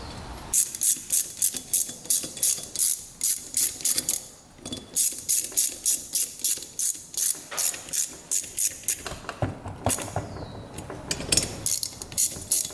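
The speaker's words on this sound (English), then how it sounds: "And then we're going to put these bolts on." Ratchet clicking in rapid repeated bursts as bolts with washers are tightened on a dirt bike, several runs of close, sharp ratcheting separated by brief pauses.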